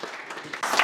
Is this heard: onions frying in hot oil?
no